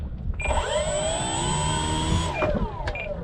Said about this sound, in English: Last thing to check is my motor. Make sure she spins.